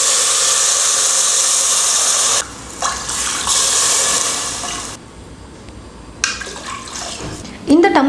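Water poured from a tumbler into a pot of raw white rice for a simple rice recipe, a steady rushing pour for a couple of seconds, then quieter handling and splashing sounds close by.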